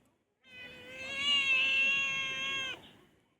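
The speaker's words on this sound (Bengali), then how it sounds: "ম্যাও ম্যাও।" One long, drawn-out meow from a pet cat, close and loud, rising and holding before stopping abruptly, heard alone with no speech.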